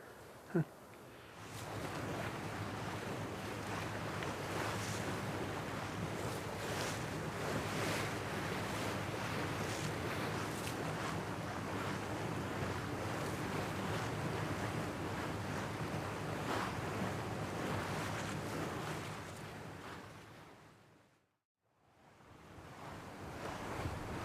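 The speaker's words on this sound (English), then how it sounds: "We've entered the Barents Sea, heading for Kirkenes, the northern terminal for the Coastal Express line." The Coastal Express ship ploughs through the Barents Sea toward Kirkenes, with a steady roar of waves and wind buffeting the microphone, continuous and loud, then briefly cutting out near the end.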